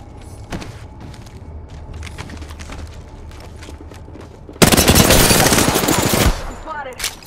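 Automatic gunfire in Apex Legends erupts after a quiet stretch of faint game ambience and scattered clicks, a loud, dense burst lasting about two seconds before cutting off and fading into softer mechanical sounds.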